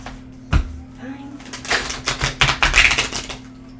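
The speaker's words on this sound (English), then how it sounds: "Okay, I need to shuffle." Oracle cards are shuffled up close in a quick run of soft riffling slaps and flicks after a single sharp tap.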